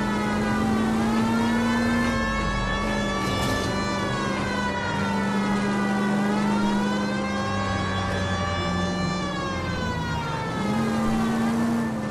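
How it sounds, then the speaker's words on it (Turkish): A police car siren in the L.A. Noire video game wails steadily and loudly, rising and falling in long sweeps over a low engine drone, with no voices. "Kullanacağız sireni."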